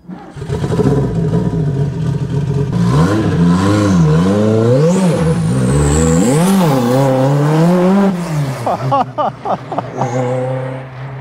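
A Renault R5 Turbo 2 in Monaco fires up with a sharp crank, then revs loudly in rising and falling sweeps, close by, settling back to a lumpy idle with quick blips at the end.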